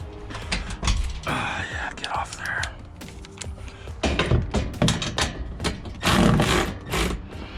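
A socket ratchet works on bolts of a storage shelf in a Jeep JK, making close, rapid clicking and clattering bursts of metal with hushed, whispery talk mixed throughout.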